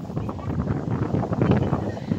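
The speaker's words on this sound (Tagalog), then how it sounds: "Ang lakas ng hangin, guys." Strong wind buffets the microphone in rough, roaring gusts at a paragliding site in Rizal, loud and close, with a voice talking underneath.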